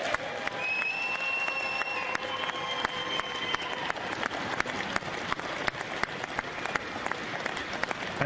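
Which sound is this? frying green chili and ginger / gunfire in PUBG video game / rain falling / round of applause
round of applause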